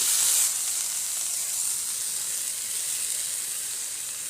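Washed black cumin seeds frying in oil in a pan make a bright, close, continuous sizzle, loudest in the first half second before settling to an even hiss.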